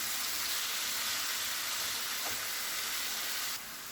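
Mutton liver sizzles steadily on a hot tawa with garam masala, turmeric and chopped tomato, a continuous close frying hiss that stays even throughout and drops slightly at the very end.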